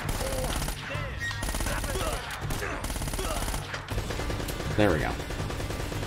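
Turret gunfire in Uncharted: Drake's Fortune rattles in rapid bursts inside a fortress interior, loud and close, broken by short pauses, while someone speaks briefly over it.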